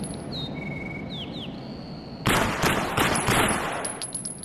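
Rapid FAMAS rifle bursts fire in an AimXR VR shooter game, a dense run of loud shots starting midway, with faint whistling chirps before it.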